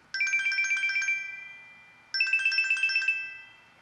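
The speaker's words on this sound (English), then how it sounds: "with the watch, you can actually even make it chime" A Google Pixel Watch chiming while being located, two identical bursts of bright rapid electronic tones, each about a second long, separated by a short pause and heard clearly alone.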